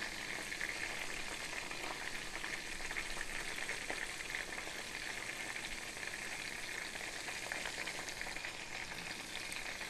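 Salted pork ribs fry in hot oil over medium-high heat, a steady dense sizzle and crackle, fairly quiet and continuous with no voices.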